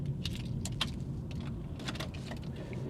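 Reshelled car keys for a Chevrolet Aveo jangle in a few quick metallic clinks over a steady low hum, faint and near, with no one speaking.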